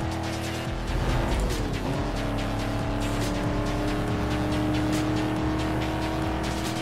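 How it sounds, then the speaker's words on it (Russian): Game car in Need For Speed: Most Wanted, driven with a steering wheel, spins its wheels off the start: steady loud engine drone with tire squeal, continuous throughout with no talk. "Вот это пробуксовочка у него"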